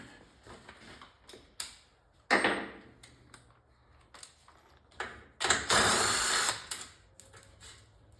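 A power drill with an attachment whirs in short bursts between quiet pauses while taking apart a Neo Geo arcade cabinet, with clicks and tool handling in between; the longest burst lasts about a second.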